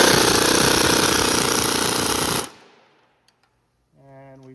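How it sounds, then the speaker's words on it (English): A loud, close impact gun hammers rapidly on the steering drag link of a 2011-2016 Ford F-250/F-350 pickup for about two seconds, then cuts off to near silence before a faint hum. "we can use an extension and a socket to easily use an impact gun"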